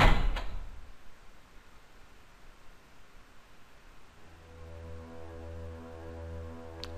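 A door opens in the horror game Finstere Träume with a sharp thump right at the start, followed by quiet air and then a low, steady droning hum.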